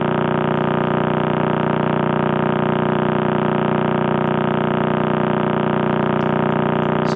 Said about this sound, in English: So the Crab pulsar sounds like this.